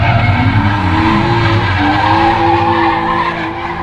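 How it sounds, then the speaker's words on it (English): A drifting car skids at Sonoma Raceway during a Wednesday-night drift event, its tires squealing loudly and continuously over a strained, revving engine close by. "Checking out a drift event."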